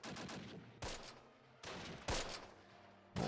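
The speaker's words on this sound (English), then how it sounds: "Can we get more gun shooting? There we go, thank you." Gunfire in the Close Combat war strategy game: several loud, sharp bursts of rifle and machine-gun fire at irregular intervals, with rattling echoes and battle noise filling the gaps between shots.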